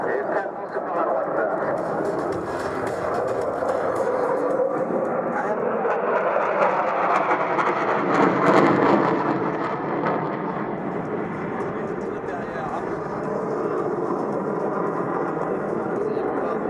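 A Mirage 2000N military jet roars past during a Ramex Delta display at the 2015 air meeting at Tours Air Base 705. The broad engine rumble swells to a peak midway, then fades, under loudspeaker commentary.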